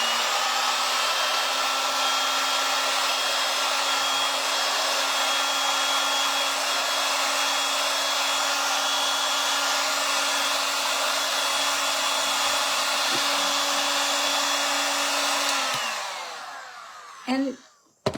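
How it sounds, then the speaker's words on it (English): A hair dryer blowing steadily and loudly on freshly brushed chalk paint for about fifteen seconds, then switching off and winding down, followed by a couple of small handling knocks. "Let me just dry it."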